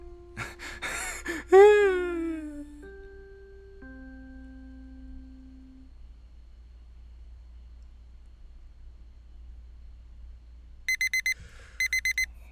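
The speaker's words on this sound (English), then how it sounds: "I'm rudely pulled out of a warm, comfortable snooze by the invasive blaring of my alarm on my phone" A phone alarm in the Blue Skies visual novel game sounds near the end as two short clusters of rapid, bright beeps. Gasping and falling tonal sounds come first, followed by a long quiet stretch.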